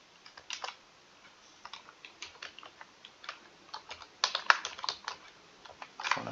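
Close, crisp clicks of typing on a computer keyboard come in irregular quick runs, growing denser and louder toward the end, with no voices.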